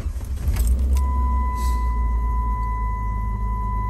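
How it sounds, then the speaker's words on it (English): A car engine is started with the key: a brief jangle and cranking give way to a steady low idle rumble, while a thin electronic whine from a plugged-in cigarette lighter charger holds on top. "Now we're going to start the car."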